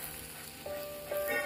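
Boiling water poured into a pot of braising beef brisket with tomatoes, a short burst of sizzling and hissing that swells in two steps over about a second and a half, with no talking.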